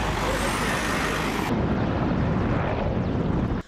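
A firefighting aircraft flies over a forest fire in Yalova with a loud, steady broadband roar that holds for a few seconds, then cuts off abruptly.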